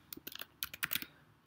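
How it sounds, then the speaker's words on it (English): Quick bursts of close computer keyboard typing, light clicky keystrokes in uneven clusters with brief pauses, with no voice. "I'm typing this down because I'm eventually gonna forget."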